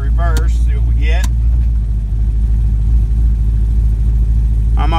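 A car with a TH400 automatic transmission idling in reverse, a loud, steady low engine rumble throughout, with a voice briefly talking over it at the start and the end.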